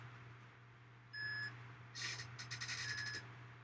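A TerraMaster F5-422 NAS sounds its alarm after a drive is pulled, with a short tonal beep followed by a quick run of repeated beeps, fairly faint over a low steady hum.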